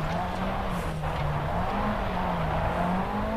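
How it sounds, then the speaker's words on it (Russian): Lancia Fulvia rally car engine in the Sebastien Loeb Rally video game, a steady droning engine note held under throttle with a constant backdrop of gravel and road noise, no pauses. "Немножко так подгазовывать, чтобы машина вошла в нужную траекторию."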